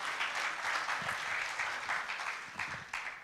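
Steady audience applause fills a tribute mushaira poetry gathering honoring Hakim Mohammed Said, many hands clapping together at moderate distance, holding even then tapering slightly near the end.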